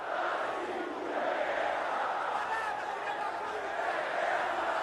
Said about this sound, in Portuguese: Torcida do Santos segue cantando, jogadores retribuem.